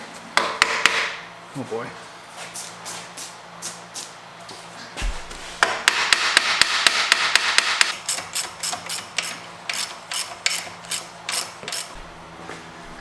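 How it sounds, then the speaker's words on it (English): A hammer strikes repeatedly near a turbo LS engine in a Mustang while a belt is being fitted, giving sharp metallic clanks in bursts with ratcheting and tool noise between, close and loud, with a brief spoken exclamation. "Good thing we got the hammer."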